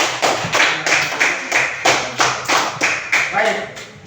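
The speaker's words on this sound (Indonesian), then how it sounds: "kita berikan tepuk tangan untuk kelompok 3" A small classroom group claps in a slow, even rhythm of about a dozen distinct, close claps.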